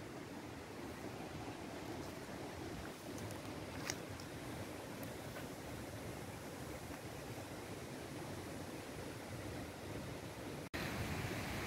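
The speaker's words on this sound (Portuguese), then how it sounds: "E o rio tá correndo ali." River flowing beside a trail near Sollipulli volcano in Chile's Nevados de Sollipulli reserve: a steady, close rush of broadband water noise that holds evenly throughout, with a brief dropout near the end.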